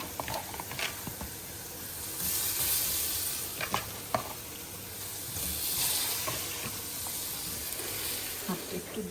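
Baim fish frying in a hot pan, a steady broad sizzle and hiss with scattered pops and crackles, close and continuous.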